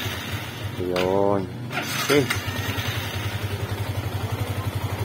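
A Yamaha Sniper 150 motorcycle is cranked on its electric starter and settles into a steady, fast-pulsing idle, close by, with someone talking briefly over the start.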